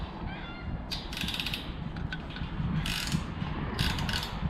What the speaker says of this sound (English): I'll put a wrench on it one time and see